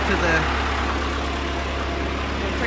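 A Ford 5000 tractor engine idles steadily nearby, a low constant chug with a faint voice over it.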